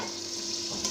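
Chicken in a pot sizzles as a little water is added for gravy while cooking parda biryani, a steady close hiss with a slight flare near the end.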